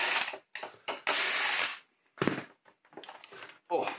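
A cordless power drill drives screws out of a Neato D85 robot vacuum in short bursts, several whirring runs of varying length with quiet gaps and handling clicks between, close up.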